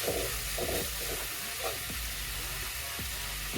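Chopped tomatoes sauté in a hot pan for a Kerala curd tomato curry, a steady sizzling hiss broken by a few soft stirring scrapes, close and without talk.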